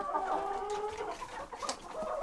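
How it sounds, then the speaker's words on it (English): A hen beside a roll-away nesting box gives short, soft clucks and a few murmured calls across about two seconds, heard fairly close but quietly. "Look at this chicken. It's trying to get the eggs again."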